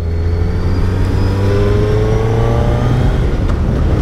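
A 2024 Suzuki Hayabusa motorcycle engine runs steady and loud, a continuous close drone with a slowly rising pitch, no voices over it.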